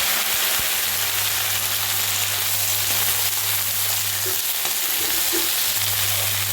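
Okra frying in hot mustard oil with dry red chilli and nigella seeds gives a steady, loud, close sizzle with a few soft stirring knocks and no voices.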